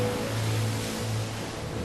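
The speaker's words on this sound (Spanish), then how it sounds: "Las olas sacuden el navío" Storm-driven ocean waves at sea battering a schooner, a loud, continuous broadband roar and wash with a low rumble underneath, steady throughout with no voices.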